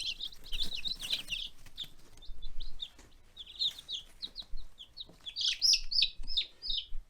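Baby Ranger meat chicks chirp in a brooder with high, thin peeping in scattered bursts, close and moderately loud, with handling noise and short quiet gaps between the flurries.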